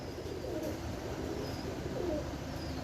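Pigeons coo softly in a loft, low rolling calls repeating a few times over a steady hum of background noise.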